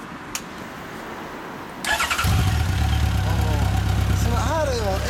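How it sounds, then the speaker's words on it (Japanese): A 1973 Honda Dream CB750 Four K2 motorcycle engine fires up partway through after a quiet start. It then settles into a loud, close, steady four-cylinder idle while people talk over it. "CB エンジン音聞かせてもらえますか。"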